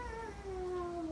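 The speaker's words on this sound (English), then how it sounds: "A meow." A cat gives a single drawn-out meow, a clear wavering cry that slowly falls in pitch, heard alone and fairly close.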